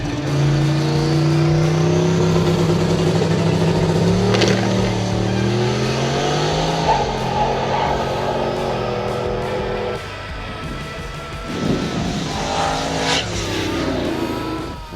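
A red Ford Mustang makes a solo drag race pass at a street racing event. Its engine revs loudly and climbs through several gear shifts in a strong, close roar, then fades and rises again as the car runs down the strip.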